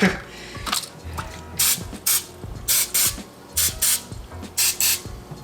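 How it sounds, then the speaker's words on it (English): Repeated short hissing bursts of nonstick cooking spray, about ten quick squirts in uneven succession, close and fairly loud with brief pauses between, greasing a muffin pan. "now we're gonna add some nonstick cooking spray to it"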